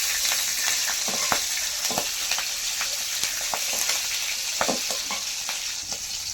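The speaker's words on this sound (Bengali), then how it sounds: "তেলের মধ্যে লঙ্কা দেওয়ার সঙ্গে সঙ্গে তো ফাটছিল" Green chilies crackle and splutter in hot oil with nigella and cumin seeds, a loud, dense sizzle dotted with sharp pops and the scrape of stirring, close by with no voices.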